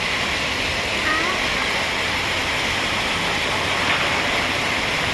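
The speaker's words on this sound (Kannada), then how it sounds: "ದೊಡ್ಡ ಮಳೆ ಬೆಂಗಳೂರಲ್ಲಿ." Heavy rain pours down in Bangalore, a dense, steady roar of water that stays loud and unbroken throughout.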